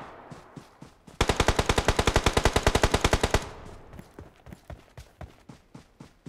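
Rapid automatic gunfire in PUBG on the Livik map bursts out in one long, even stream of loud shots, followed by a few scattered single shots and softer in-game thumps.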